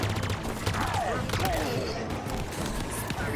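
Carbine gunfire in Halo Infinite fires in rapid bursts of sharp shots amid busy battle noise, moderately loud.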